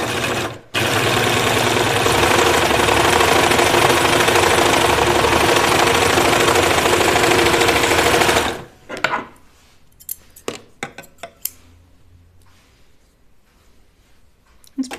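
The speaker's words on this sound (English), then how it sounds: "let me test my serger out a little bit." A serger sewing machine stitches flannel with a loud, steady mechanical whir for about eight seconds, then stops. Scattered clicks and handling knocks follow.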